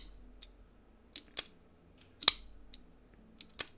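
Winterblade folding knife flipped open several times, each a sharp metallic snap with a brief bright ringing ting, isolated crisp clicks spaced irregularly in a quiet room.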